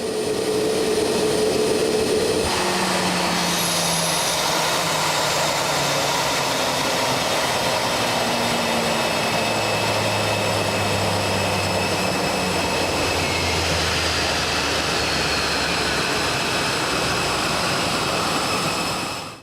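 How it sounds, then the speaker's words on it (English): Pressurized air rushing from a CFM LEAP-1A turbofan on an Airbus during its shutdown sequence as the stator vanes and bleed valves operate: a steady, loud broadband whoosh over a slowly falling engine tone that runs down for about eighteen seconds. "during the engine's shutdown sequence, you may hear a pressurized air noise."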